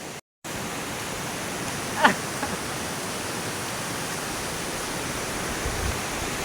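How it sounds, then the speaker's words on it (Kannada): Hosadevata waterfall near Ankola roars as a steady, dense wash of falling water, loud and unbroken after a brief dropout at the start. "ನೋಡಿ, ಫಾಲ್ಸ್ ಬಂದೋಯ್ತು, ಹೊಸದೇವತಾ ಫಾಲ್ಸ್"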